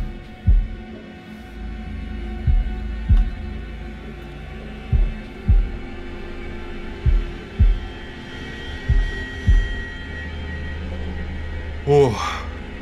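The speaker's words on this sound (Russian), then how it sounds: "нажмите, чтобы попасть в такт пульсу" Heartbeat pulse in the horror video game Man of Medan: deep, close thumps in paired beats at a slow, steady rhythm, repeating over a low constant drone.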